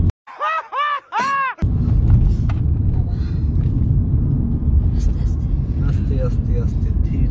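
A Tata Punch car climbs a hill road, its engine a steady loud rumble close up, preceded by a brief burst of talk at the start.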